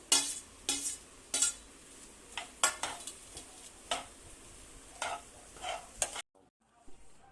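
Crumbled idli is stirred into a hot tempering in a pan: repeated scraping strokes of a spoon against metal with a soft sizzle underneath, close and regular, then a brief quiet at the end.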